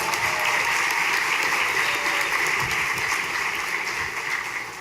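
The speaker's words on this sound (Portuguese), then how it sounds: "Esse é o autoaplauso." Audience applauding itself at a municipal presentation, a loud sustained burst of many hands clapping continuously for about five seconds, tapering slightly at the end.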